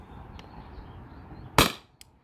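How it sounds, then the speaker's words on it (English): An Umarex CO2 cartridge powered air gun fires a single sharp, close pop that cuts through a quiet room and decays quickly, with a fainter click shortly after. "I have one more shot with this magazine."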